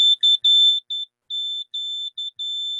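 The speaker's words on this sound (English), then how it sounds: "it flashes an LED and it beeps" Small electronic kit housed in an Altoids tin giving a run of sharp, high-pitched electronic beeps, short and long tones in an irregular keyed pattern, close and clear with no talking.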